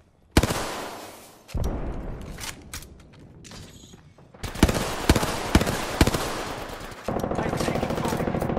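Video game gunfire crackles in bursts, with loud sharp shots and rapid automatic fire layered over a busy, dense combat mix.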